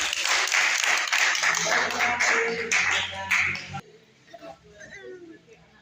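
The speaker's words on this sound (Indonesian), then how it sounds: "Kita berikan tepuk tangan untuk kelompok." A group at a church family-week service claps together for a few seconds, loud and close, then the clapping stops abruptly and quieter sounds and a voice follow.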